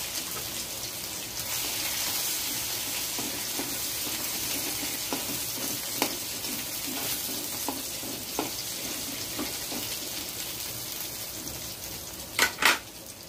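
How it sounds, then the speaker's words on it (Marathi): Garlic and ginger paste frying in hot oil in a pan, a constant dense sizzle with a few soft utensil taps and a couple of sharper clinks near the end, no voices. "लसूण आणि अद्रक छान असा लाल होईपर्यंत भाजून घ्यायचा आहे."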